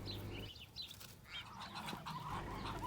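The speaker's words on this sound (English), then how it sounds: "We're walking up onto a musky duck meeting." Muscovy ducks gathered together on a small spring homestead give soft, scattered calls over a steady outdoor background, moderately close and fairly faint.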